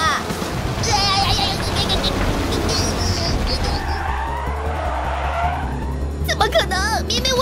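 A cartoon race car drifts around a corner in a racing animation, with loud tire squeal and skidding over engine rumble, and sharp squeals rising again near the end, mixed with voices.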